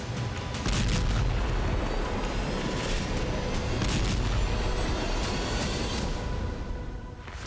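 Heavy explosions and artillery fire from attacks across Crimea roll as a continuous, dense rumble of booms with scattered sharper bursts, steady and loud throughout with no talk.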